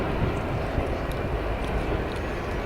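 Avro Vulcan bomber engines roar in a broad, steady rumble during a flying display at an air show, heard from a distance as a dense, continuous wash of jet noise.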